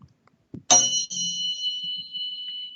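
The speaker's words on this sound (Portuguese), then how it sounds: "o da base tem um som lindíssimo, que é um som bem parecido com o do sino tibetano" A single bright metallic tone at 174 Hz, like a Tibetan singing bowl, is struck and rings on, sustained and shimmering as it slowly fades.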